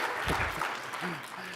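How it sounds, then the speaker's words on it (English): Audience at a tech tutorial session breaks into a short burst of applause, with a voice speaking over the tail end. "If you applaud like you can see it"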